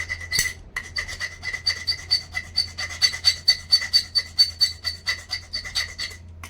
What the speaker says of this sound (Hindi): अभी फाइल लेके इस फाइल को इसके ऊपर रगड़ना है